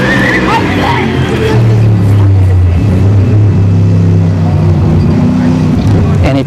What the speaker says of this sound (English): Those are the circle track guys doing a couple of laps.